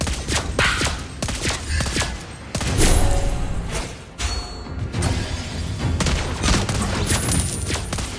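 Rapid gunfire from the Mobile Legends: Bang Bang mobile game, with the sniper hero Lesley in play, comes as dense bursts of sharp shots mixed with game effects and punchy impacts, loud and nearly continuous with a brief lull midway.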